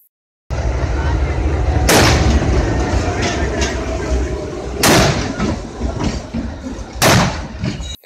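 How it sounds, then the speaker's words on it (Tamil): Railway detonators burst under train wheels near a station gate, giving three sharp, loud bangs over the continuous rumble of a passing train, heard from nearby. "ரயிலோட சக்கரம் அது மேலே ஏறும்போது அது வந்து வெடிக்கும்."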